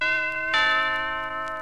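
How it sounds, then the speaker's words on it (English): A doorbell chime from a 1968 Avon sales record rings out as sustained, resonant bell tones, with a second note striking about halfway and both ringing on clearly and alone. "They'll be expecting you to ring their bell."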